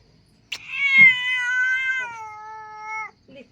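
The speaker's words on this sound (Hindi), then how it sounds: "बिल्ली ए म्याऊं म्याऊं कर रही है" A house cat gives one drawn-out, clear meow lasting about two and a half seconds, close and fairly loud in a quiet room, followed by a brief faint sound.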